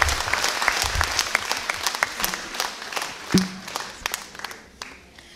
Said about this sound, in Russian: Аплодисментами.